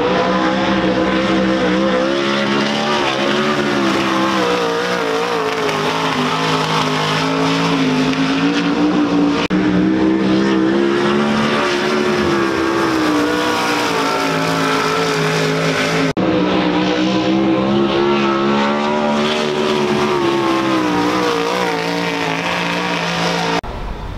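Sprint cars race on a dirt track during a night of a Western sprint tour, their engines droning loud and continuous for the whole stretch, with the pitch rising and falling as they circle and pass.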